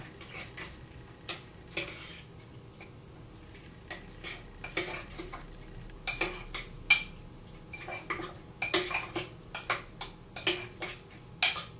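Spoon scraping and clinking against a crock pot while stirring rice and beans, a run of sharp metallic clicks and knocks that grow busier and louder toward the end, with no talking.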